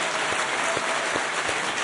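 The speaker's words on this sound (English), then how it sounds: "Give them a nice round of applause," Steady applause fills the room at a country music awards show, many hands clapping together in a dense, even wash of sound without voices.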